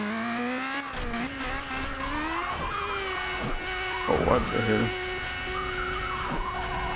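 A racing car's engine in the Burnout Legends driving game drones steadily with harmonic revving and a brief screech midway, loud and continuous, as someone speaks over it.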